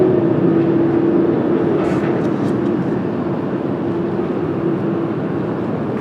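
A heavy jet airliner arriving from London lands on runway 19 left at Washington Dulles on a cloudy day, a steady broad engine roar with a faint tonal whine holding at constant loudness throughout.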